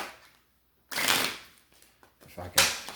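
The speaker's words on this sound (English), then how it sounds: "If I can stop shuffling." An African American Tarot deck is shuffled by hand in two quick, crisp bursts of riffling cards, close and fairly quiet, separated by a brief pause.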